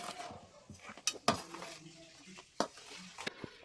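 Atta laddu ingredients being mixed in a bowl: soft scraping and stirring with a few sharp clinks of a utensil against the bowl, fairly quiet and close.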